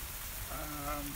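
Pouring rain on a farm makes a soft, steady hiss, with a faint voice-like tone rising briefly partway through.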